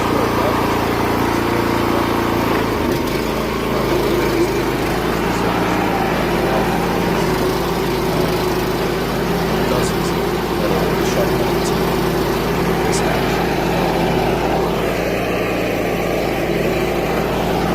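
A BCS walk-behind tractor set up for mowing runs outdoors with a steady, droning engine note. The sound stays constant throughout, and people talk faintly underneath it.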